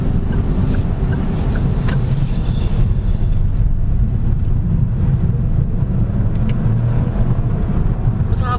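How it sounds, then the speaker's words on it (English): A 2022 Geely Coolray Sport Limited subcompact crossover accelerating in sport mode, a loud continuous engine and road roar heard from inside the cabin, with some wind noise and no clear talk. "If you're in sport mode, it just really wants to go."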